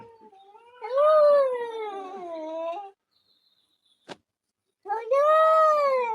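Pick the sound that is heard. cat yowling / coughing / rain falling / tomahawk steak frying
cat yowling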